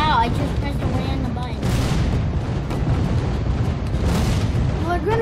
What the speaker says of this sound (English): Oh, come on, another cannon.